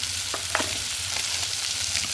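Ginger-garlic paste sizzles in hot oil rendered from fish, a steady crackling hiss with a few sharper spits and stirring scrapes, close and continuous throughout.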